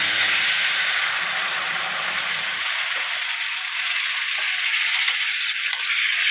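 Loud, continuous hissing and bubbling as boiling water is poured onto roasted semolina in a hot pan, steaming steadily throughout without any talking.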